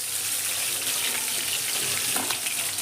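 Fish frying in hot oil in a home kitchen as the pieces are lifted out, a steady close hiss and sizzle with a brief splash-like crackle near the end.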